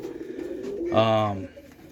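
A single low, resonant coo from a roller pigeon in a loft, close by, over a faint background murmur.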